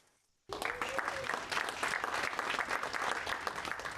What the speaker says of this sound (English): let's give him an extra round of applause